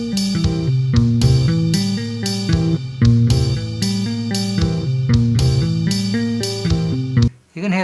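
Bass guitar tapping line in steady eighth notes, close and loud, with clear repeated plucked attacks in a driving rhythm, ending abruptly near the close.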